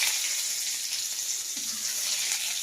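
Whole chillies, five-spice seeds and crushed garlic hit hot oil, producing a loud, continuous close-up sizzle with a bright hissy texture that stays steady throughout.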